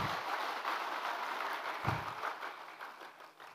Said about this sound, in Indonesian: Ini PKS banyak juga tepuk tangannya ini.